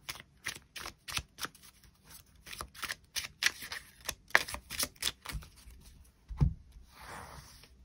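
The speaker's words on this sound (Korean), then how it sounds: "추가 카드 뽑아보도록 하겠습니다" Tarot cards being shuffled and drawn at close range, a run of quick riffling snaps and flicks with a soft thump near the end, then a brief rustle as a card is pulled.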